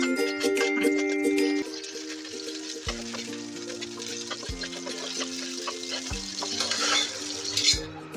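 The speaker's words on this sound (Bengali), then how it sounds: "এবার আমি মরিচটা ভেজে নেব" Chili frying in mustard oil in a pot, a steady crackling sizzle with a spoon stirring and scraping against the metal, while tonal background music plays underneath.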